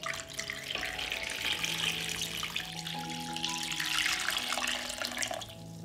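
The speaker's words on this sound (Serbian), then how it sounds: "Prelit ću butkice sa hladnom vodom." Cold water runs from a tap into a pot holding washed pork hocks, a continuous moderate splashing stream with shifting tone as the pot fills, no voices.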